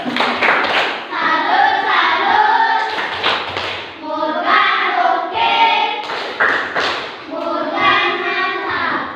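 A classroom of children does the 'tepuk salut' cheer, rhythmic patterned clapping mixed with chanting voices in bursts, close and loud, with a teacher present.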